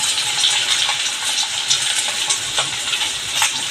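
Chopped onion and large pieces of fresh green chili sizzle steadily in hot oil for a village-style thecha and methi breakfast, a dense continuous crackle with faint clinks of stirring, no talk.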